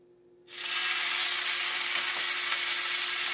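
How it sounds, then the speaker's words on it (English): Bacon hitting a hot cast iron pan over medium-high heat, erupting after a near-silent moment into a loud, steady, close sizzle that hisses continuously to the end. "You can't see that, but just listen when that bacon hits the pan"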